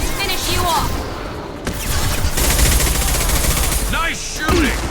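Rapid bursts of gunfire in a firefight from Mass Effect Legendary Edition, sustained automatic shots crackling loudly alongside shouted combat voices.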